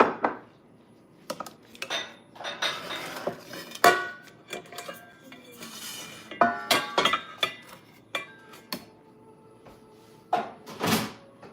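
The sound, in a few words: pans being handled and moved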